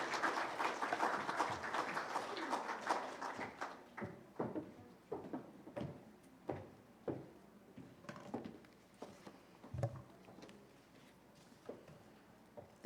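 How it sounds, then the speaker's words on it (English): Applause for the South African ambassador at a diplomatic event in the Philippines, starting as a brief dense burst and thinning into scattered separate claps that fade out, fairly quiet overall. "Let's give her a warm round of applause."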